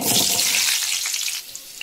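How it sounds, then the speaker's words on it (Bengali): Potatoes hit hot oil in a pan with a loud, bright sizzle that eases into softer spitting and a few pops over about two seconds, close by and without talk. "এরপর আলুগুলো একটু ভেজে নিই।"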